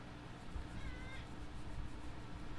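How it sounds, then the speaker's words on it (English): A house cat meows once, a short wavering cry over a low background hum, faint and indoors. "That's the cat."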